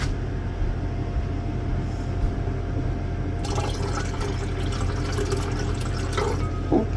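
Settled refining solution from an inner-wire metal refining setup being poured off, a steady liquid pour that swells into a louder splashing stream midway, heard close over a constant low lab hum.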